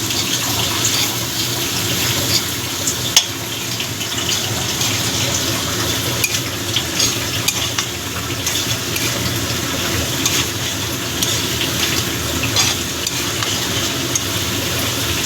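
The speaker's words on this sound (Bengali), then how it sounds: "রসুনটা দিয়েও ভালো করে মিশিয়ে দেবো" Dried fish frying in a pan with chopped garlic being stirred in, giving a steady loud sizzle with scraping stir strokes and an occasional sharp clack of the utensil, and no voices.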